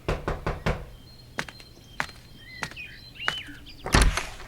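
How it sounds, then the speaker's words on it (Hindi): Knocks on a door ring out as a quick burst of three to four sharp raps, then several more spaced single knocks, each loud and close, with faint chirps between them and a heavier thump at the end. "तभी उसे दरवाजे पर किसी के खटखटाने की आवाज सुनाई दी"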